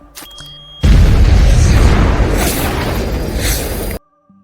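A bomb detonates in an Indian spy film, set off in the killing of former Prime Minister Rajiv Gandhi. A huge, close boom erupts after a faint lead-in and rumbles heavily for about three seconds, then cuts to near silence.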